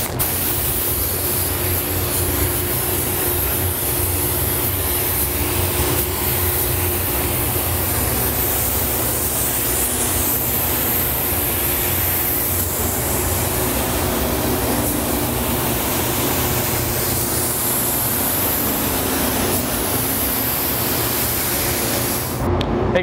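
An Iwata Air Gunza 1.8 spray gun at about 28 to 30 PSI sprays polyester primer over car bodywork, a loud, unbroken hiss of air and atomised coating that runs steadily throughout.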